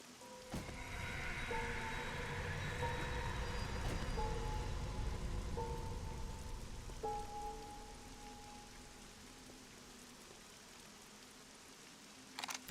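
Rain falls in the survival video game 7 Days to Die, a steady hiss that swells and then fades, with musical tones layered over it.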